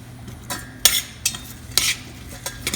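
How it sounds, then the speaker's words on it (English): Onions frying with a little salt in a pan, a faint sizzle under a series of sharp scraping stirs and clinks of a utensil against the pan, about six distinct strokes. "I'm going to wait till onions fry a little bit"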